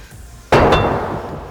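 A 5-pound iron weight plate without rubber drops at an angle onto an epoxy floor, one loud sharp metallic clang with a quick second bounce and a ringing tail, close and alone.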